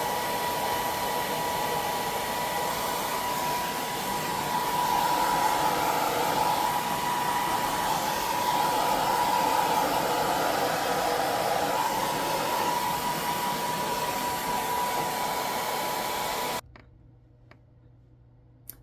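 A hair dryer blows steadily while drying hair, a loud continuous whir holding for about sixteen seconds before it cuts off abruptly, leaving near silence with a few faint clicks.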